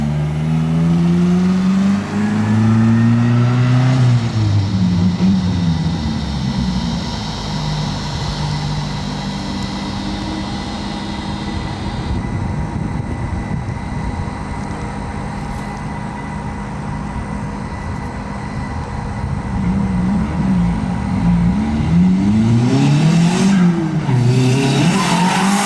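A drift car's engine revs hard and shifts through gears while tires squeal and skid during a test lap, loud and continuous as it circles close by.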